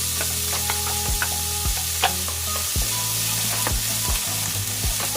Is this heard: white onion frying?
yes